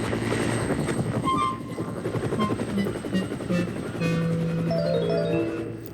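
Harold the helicopter from a Thomas the Tank Engine story hovers with a steady, close rotor drone, mixed under light music with tones rising and falling over it.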